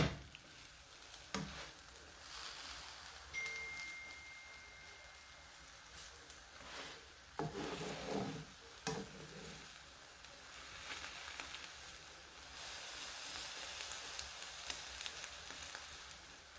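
An egg frying in a pan for a breakfast sandwich, giving a soft, steady sizzle with brief louder bursts of spitting and stirring partway through, fairly quiet and with no talk.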